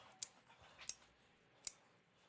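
Three sharp, crisp snips at a steady spacing, each a quick cut as material is trimmed to length with scissors or cutters, close by and fairly quiet, no voices.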